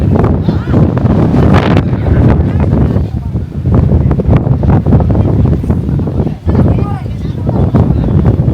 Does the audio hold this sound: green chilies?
no